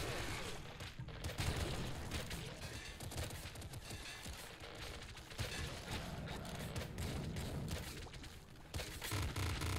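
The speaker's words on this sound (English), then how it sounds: "Hyper pop rifle seems real good." Rapid hyper pop rifle gunfire in the video game Nuclear Throne Ultra Mod, a dense continuous barrage of popping shots and booms with game effects, and a player talks over it.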